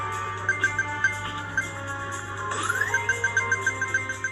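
A phone ringtone plays through the single bottom-firing speaker of a Ulefone Armor X8 rugged phone, a tinny series of repeated short electronic tones with a rising sweep partway through.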